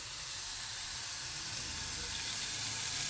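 Thin, slightly frozen bacon frying in a pan, giving a steady, close hissing sizzle with faint crackles throughout.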